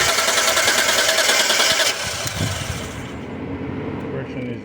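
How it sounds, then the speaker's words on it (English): A 1993 Mitsubishi 3000GT SL engine cranking during a start attempt with a compression tester fitted, a steady loud whirring churn that drops slightly in level partway through and continues without catching. "So now it's starting the vehicle"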